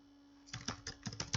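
Keys tapped on a computer keyboard in a short, quiet run of about half a dozen close clicks over a steady low hum.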